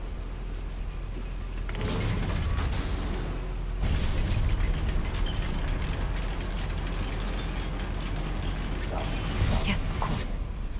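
Clanking mechanical machinery churns steadily inside a goblin mine in Hogwarts Legacy, with rattling, ratchet-like knocks and occasional heavy pops over a continuous low rumble, growing louder after the first few seconds.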